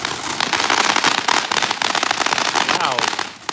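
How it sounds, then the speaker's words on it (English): Consumer fireworks from a 2025 TNT and Phantom demo erupt into a dense, loud crackle of rapid firecracker-like pops that goes on without a break, with a voice partly heard over the bursts. "Super loud crackle."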